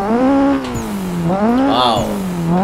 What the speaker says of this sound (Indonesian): Ada bunyi turbo kan? Eh? Dia ada bunyi turbo dia geng.